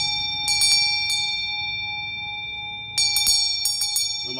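A Tibetan bell is struck with its wooden striker, giving bright sustained metallic tones that ring on; a couple of sharp strikes come early, then a second cluster of strikes later, near and clear.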